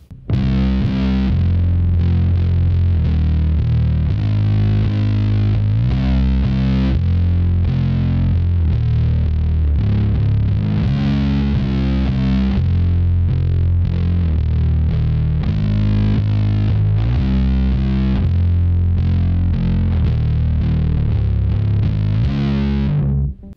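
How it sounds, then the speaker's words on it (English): Heavily distorted bass guitar plays a steady, driving line with thick, gritty low tones, loud and continuous with no voices. "I'll throw a little distortion on. So it'll actually sound like this."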